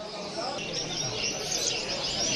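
Caged breeding birds at an ornithological exhibition and national competition in Algiers chirp and tweet in a dense, continuous chorus of overlapping high calls, fairly loud and close, with voices and hall noise underneath.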